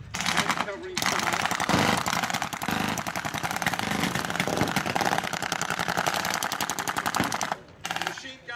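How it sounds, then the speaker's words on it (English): Blank-firing machine guns rattle in long, rapid bursts at a WWII battle reenactment display, loud and close, with brief pauses between volleys and a rumbling engine beneath. "The machine gunners are absolutely trying to keep everyone's heads down by laying down as much lead as they can."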